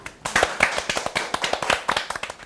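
A short burst of applause opens a church teaching session, a small group clapping in quick, distinct slaps that sound close and lively, with no voices.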